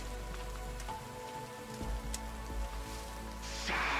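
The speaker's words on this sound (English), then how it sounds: "I've never seen it rain this much." Heavy rain falls steadily in The Forest survival game, a continuous hiss with low rumbling beneath and a brighter surge of downpour toward the end.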